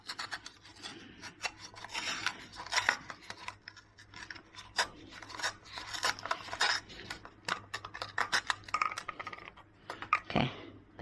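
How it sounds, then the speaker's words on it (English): A razor blade sawing through a cup, giving rough rasping and scraping strokes in irregular bursts, close and fairly loud, with no talking. "Okay, I'm going to cut this cup in half."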